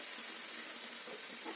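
Dried fish frying in a pan with garam masala, red chilli, onion and tomato, giving a steady, soft, continuous sizzle that stays even throughout.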